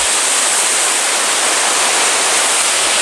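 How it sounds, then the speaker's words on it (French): Cascades at L'Aigue Brun in Vaucluse roar as a dense, loud, unbroken wash of falling water close by, steady throughout with no voices. "Il n'y a que des très belles cascades."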